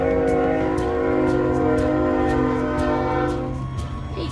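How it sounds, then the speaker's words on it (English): A passing train sounds a long, loud, steady horn close by, heard from an outdoor RV resort in Indio. Rail rumble and clatter run underneath, and the horn fades slightly near the end. "Hey Gigi, what do you think of the train?"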